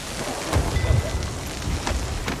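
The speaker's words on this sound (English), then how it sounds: "We're in a storm" A storm at sea in the pirate video game Sea of Thieves: steady rain hisses while low thunder rumbles roll through in short bursts, with no voices.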